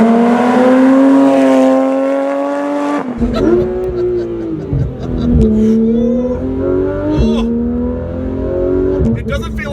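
Porsche 911 engine revving hard under full throttle on a highway, a loud rising and falling roar with gear changes, close and prominent with occasional road and tire noise.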